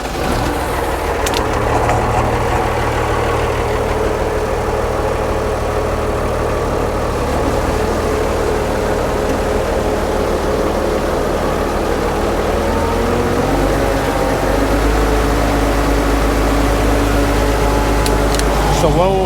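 The engine of a new combine harvester on a farm idles steadily and loudly with a constant low rumble throughout, and a slight shift in pitch near the end.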